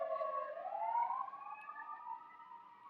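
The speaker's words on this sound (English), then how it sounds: "I just want the siren to pass" Emergency vehicle siren passing at moderate distance, a continuous wailing tone that rises then slowly falls over three seconds, heard alone.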